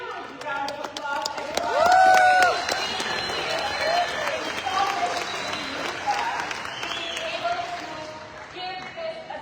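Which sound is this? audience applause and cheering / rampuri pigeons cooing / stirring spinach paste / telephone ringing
audience applause and cheering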